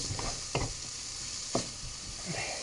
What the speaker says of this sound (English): So you've sweated your onions and your mushrooms.